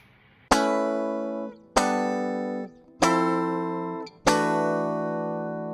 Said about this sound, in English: the sound of the pick hitting the string